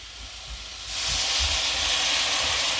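Water hitting a hot pan of vegetables, a sudden loud burst of hissing sizzle and steam that jumps in after a quieter opening and then holds steady, close up with a few low knocks underneath.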